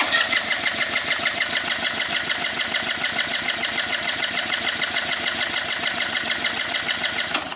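A Kymco People S 200i scooter with a suspected fuel-system fault idles unevenly, its engine putting out a close, steady stream of rapid rhythmic pulses, with no talk.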